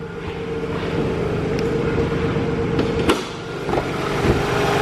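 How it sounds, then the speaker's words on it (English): A 1992 Nissan Gloria Cima with a VG30DET twin-turbo V6 idles smoothly after a cold start, a steady low hum with faint clicks and a few brief bumps, heard close by. "As you can see, it's very smooth here. This is a cold start."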